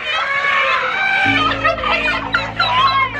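Roosters and hens cluck loudly and steadily nearby, with a drawn-out crow rising over the flock and continuing to the end.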